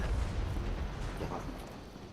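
Low, rumbling booms from explosions in the game Fallout 76 roll continuously for a couple of seconds, dull and muffled with a deep bassy tail.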